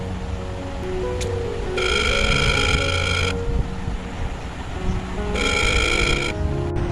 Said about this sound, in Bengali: আরে ফোন বাজছে তো, দেখতে যা বড়নাথ বউ,